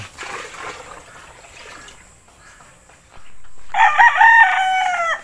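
A rooster crows loudly near the end, after a stretch of quieter rustling and splashing farmyard sounds as chickens are bathed.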